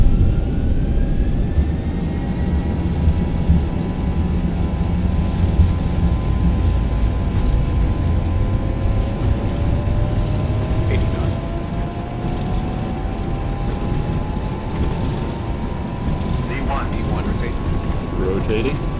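Aircraft engines roar steadily through a takeoff roll on runway 29, a loud, constant drone with rising tonal whine, as a voice calls out over the engine noise.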